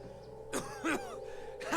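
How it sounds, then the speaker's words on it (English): A man coughs and clears his throat in short bursts in the video game Pillars of Eternity, close and fairly quiet over a low steady hum. "He shudders with a cough."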